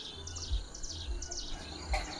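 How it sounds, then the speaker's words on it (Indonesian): Close canary singing a standard song: several quick high trills and chirped phrases follow one another, with low thumps beneath and a sharp bright note near the end. "Burung yang mengeluarkan suara kenari standar itu lebih bisa enjoy"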